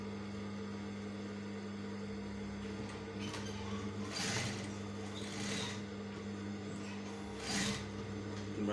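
A sewing machine stitches along a marked line on a shirt collar, its motor giving a steady, low, continuous hum with a few brief louder whirring surges, close and fairly quiet.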